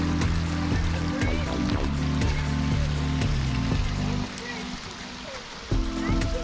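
Water of a bubbling little brook on the Alum Hollow Trail in Huntsville's Green Mountain Nature Preserve rushes and trickles steadily nearby, dipping slightly partway through before swelling again.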